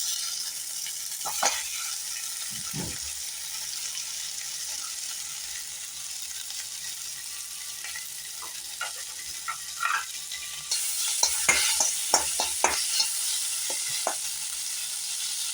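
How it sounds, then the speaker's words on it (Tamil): Boiled tapioca is tipped into a hot pan and stirred, giving a steady soft sizzle with scattered scrapes and clinks. The stirring gets busier and a little louder toward the end. "நல்லா வேக வச்சிருக்கிற கப்பை கிழங்க போட்டுடலாம்."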